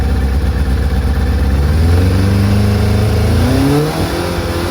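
A 1997 Kawasaki ZZR600 motorcycle engine with a carburettor fault, running lumpy and revving up and down close by, loud and uneven, then easing off near the end.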